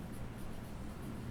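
Faint continuous scratching of chalk or marker moving across a board during a biology lecture, soft and steady with no talk.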